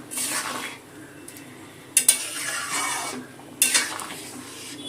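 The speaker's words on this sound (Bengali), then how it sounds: "এখন এই ভাজা মশলাটা আর ধনে পাতাটা ডালের সাথে মিশিয়ে নেব" Fried spice paste and coriander leaves are stirred into a pot of vegetable dal, giving soft scraping stirs with two sharp clinks of a spoon against the pot.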